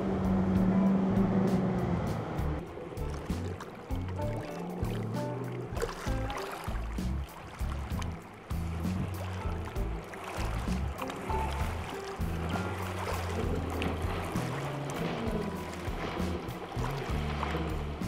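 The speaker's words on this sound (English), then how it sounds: "Now this shot is just 0 to 100, full throttle." A motorboat engine opens to full throttle from a standstill and roars steadily and loudly throughout, with the hull rushing and slapping through water.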